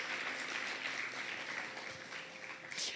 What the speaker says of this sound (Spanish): le puedes dar un aplauso más de alabanza a Jesús